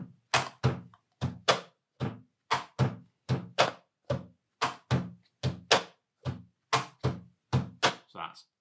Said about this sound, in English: So that's hand, side, hand, hand down.